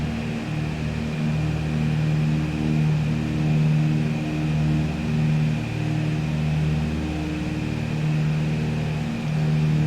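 A simulated Beech Duchess twin piston-engine plane drones steadily as power is pushed up, a continuous tonal engine hum with faint wavering pitch under a constant hiss, no voices.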